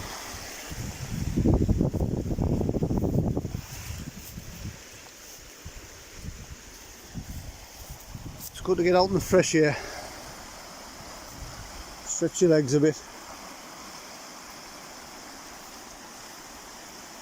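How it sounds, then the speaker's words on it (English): A river flows beside a riverside walking path, giving a soft, steady rush of water in the background, while someone talks and brief bursts of nearby movement break through. "listen to the noises of the river and the sounds of nature and that sort of stuff"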